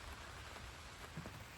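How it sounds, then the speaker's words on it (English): Rain falling steadily on a tarp shelter roof in the woods, a faint continuous patter and hiss with a few slightly louder drops, distant and low in level. "gonna enjoy this rain."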